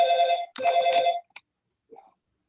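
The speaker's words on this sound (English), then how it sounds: "I can't believe you still got a house phone." A house phone rings with two bursts of a bright, buzzing electronic ring, each about half a second long and close by, followed by a brief faint tone and then silence.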